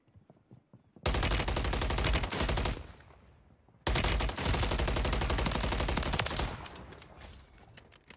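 Automatic gunfire in Warzone 3, two long, loud, dense bursts of rapid shots close up, separated by a short lull and tailing off toward the end.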